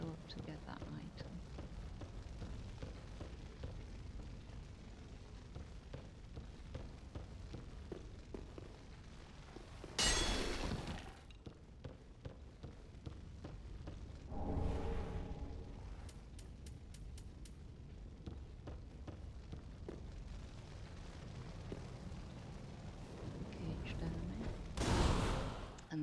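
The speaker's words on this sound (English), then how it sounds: "this is the damage fire bombs does" Fire bombs burst in Dark Souls III as loud, broad blasts, one near 10 s, another near 15 s and a third near 25 s, over a constant bed of game noise and music.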